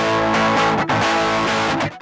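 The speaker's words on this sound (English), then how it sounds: "power amp, which introduces distortion after the gain" A guitar amp plugin with its power amp stage adding distortion after the gain plays a thick, saturated distorted guitar phrase, with sustained chords that briefly cut out before the end.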